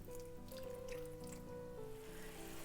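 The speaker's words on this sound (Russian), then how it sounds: "наливаем сюда примерно треть стакана горячей воды" Hot water is poured into a frying pan of food on a stove, a faint steady trickle and splash with thin ringing tones that runs continuously through the short stretch.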